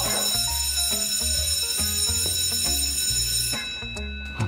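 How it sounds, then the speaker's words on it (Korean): A loud electronic fire alarm, malfunctioning, blares in a repeating, rhythmic beeping pattern, then cuts off near the end. "화재 경보기가 오작동 울린 것 같습니다."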